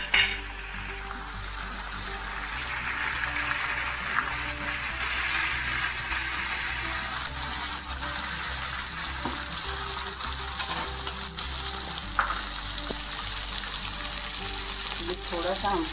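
Chopped tomatoes hit lightly browned onions in a hot pan for a Pakistani-style fried dal, frying with a steady loud sizzle and occasional stirring clinks. No one talks.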